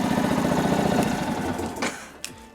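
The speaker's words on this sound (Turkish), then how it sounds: "Şimdi motoru stop edeceğim" A Yamaha MT-125 motorcycle engine idles with a rapid, even mechanical chatter, then winds down and cuts off, leaving near silence broken by a couple of faint clicks.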